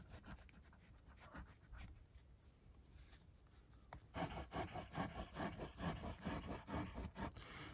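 A Kaweco fountain pen with a gold nib and Diamine 1864 blue-black ink scratches across paper, quiet and close, with soft strokes at first and then louder, rhythmic writing strokes in the second half.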